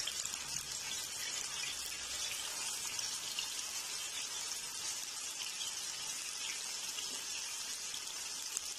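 Chicken frying in a pan over a high flame, a soft continuous sizzle and crackle with fine hissing spatter, steady and fairly quiet throughout with no talk.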